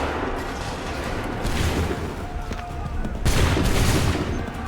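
A volley of musket fire in Assassin's Creed III Remastered: a dense roar of overlapping shots and rumbling battle noise, swelling into a louder burst toward the end, with shouted voices faintly mixed in.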